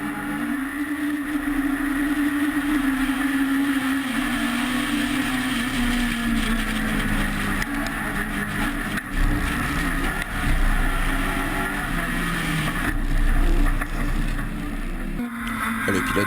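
Rallycross cars launching at a race start, recorded from an onboard camera inside one car; its engine drones loud and steady throughout, pitch sagging and rising with gear changes, with rattling, wind and other cars close around.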